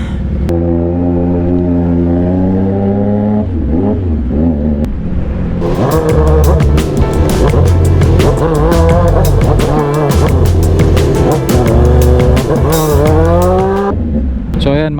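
A CFMOTO 675NK motorcycle rides through highway traffic on the NLEX, its engine droning loudly and steadily with rising and falling revs under strong wind noise.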